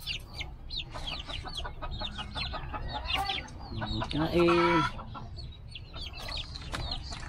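Labuyo jungle fowl and bantam chickens cluck and chirp in a backyard, repeated short calls with a louder burst of squawking partway through, and a brief spoken word over the birds.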